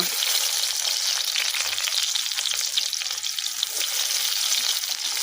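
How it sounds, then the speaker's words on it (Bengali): Chopped onions and garlic fry in hot oil, giving a dense, continuous sizzle that holds steady and close throughout, with no voices. "পেঁয়াজ আর রসুনটা অল্প ভাজা করে নিব।"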